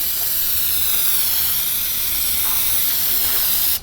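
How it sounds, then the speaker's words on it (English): Brake cleaner sprayed in a steady, loud hissing stream over the engine bay of an Evo X during an intake install, continuous for nearly four seconds before cutting off abruptly. "Soak this down with some brake clean and we're good."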